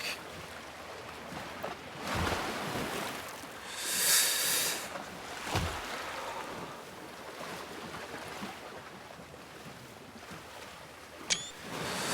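A sailboat moving across open ocean waves in the survival game Rising World, with a steady wash of water and wind, a few swells and splashes, and a faint creak, all without any talk.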